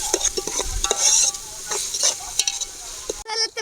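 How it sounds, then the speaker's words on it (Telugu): Ginger-garlic-coconut masala paste sizzling and frying in a pan while a spoon stirs it, with steady crackling and occasional scraping strokes, close and moderately loud, no talking. "ఇప్పుడు దానిగానే ఇందులో వేస్తున్నాను పచ్చివాసన పొయ్యేంత వరకు వేపాలి మసాలా"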